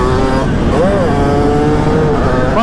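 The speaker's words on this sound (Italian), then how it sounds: "Quanto è incazzato come motore però" In a racing video game, a car engine roars loud and sustained, its revving pitch rising and falling, while someone talks excitedly over it.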